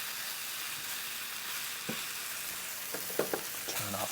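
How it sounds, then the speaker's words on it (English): Meat searing in a pot before going into a crock pot, a steady broad sizzle with a few short scraping stir knocks toward the end, close and moderately quiet, no talk. "I want to give this meat another quick stir"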